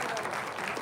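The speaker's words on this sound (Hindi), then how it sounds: "तो जोकर तो कहेगा ताली बजाने के लिए" An audience at a Hindi comic poetry gathering claps steadily for under a second, a dense wash of applause with a voice speaking over it.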